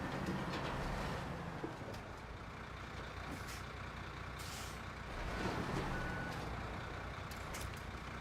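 A truck backing up a trailer, with a low engine rumble and hiss, sharp air brake bursts, and short electronic reversing beeps sounding over the steady, fairly distant noise.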